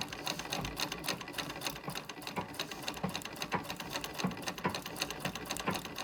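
An antique sewing machine, restored and well oiled, stitches fabric in a steady, close, rapid mechanical clatter that runs without pause.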